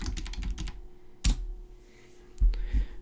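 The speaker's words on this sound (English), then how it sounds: "in here I'd simply type mail merge" A computer keyboard is typed on nearby in a quick cluster of keystrokes, followed by a pause and a few heavier key taps, in a quiet room.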